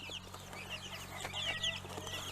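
Young chicks, about 25 days old, peep and cluck in their new enclosure, with a cluster of short high calls over a steady low hum.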